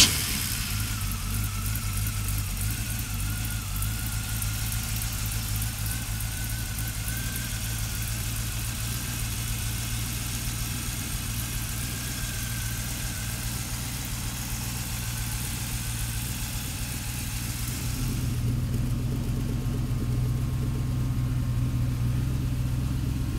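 A 1932 Ford roadster street rod with a 350 engine idles close by in a steady, loud low rumble, the pitch shifting slightly partway through with a faint ticking near the end; no one speaks.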